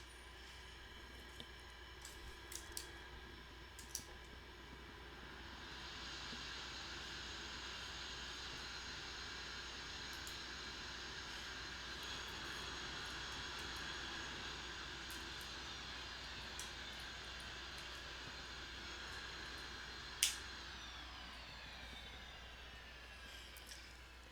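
A Northrop F-5E jet in the DCS flight simulator, its engine giving a steady, close, broadband roar with a high whine that holds evenly throughout, broken only by a few faint ticks and one brief sharp click; no one speaks.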